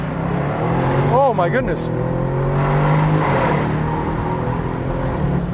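A Bentley Continental V8S engine accelerates with a rising, throaty growl heard from inside the car, the pitch sweeping up through gears while an occupant exclaims over it.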